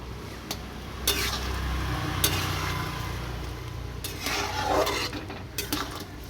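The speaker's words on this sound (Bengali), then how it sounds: "এইদিকে সোয়াবিনের ঝোলটা ফুটে উঠেছে" Soybean curry gravy bubbles in a pot while a spoon stirs and clinks against the metal, with a soft simmering hiss under several sharp scrapes and knocks, close up and with no talking.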